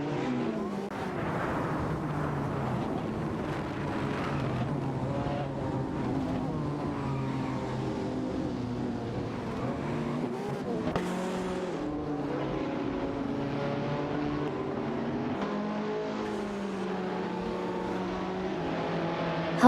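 Racing cars in a video game, a Lamborghini SC18 Alston and a Radical RXC, engines droning and revving continuously at high pitch with shifting tones as the cars battle closely, no talking.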